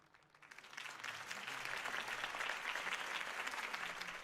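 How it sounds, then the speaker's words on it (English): A crowd applauds after a Harvey Dent campaign speech in Batman: The Telltale Series, the clapping swelling quickly from quiet into a steady, dense wash of many hands that holds to the end. "could have heard that applause"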